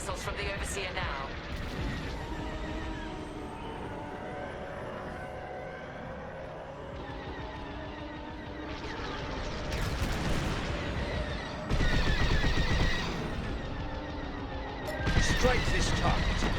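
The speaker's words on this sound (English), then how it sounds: "Titan, we're launching Viridium missiles from the Overseer now." Viridium missiles launching in the Star Wars Squadrons space combat game, a series of bursting whooshes and blasts over a constant engine drone, rising toward the end, with radio voices talking throughout.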